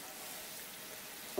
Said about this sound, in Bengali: ঝোলটা বেশ ফুটে উঠেছে।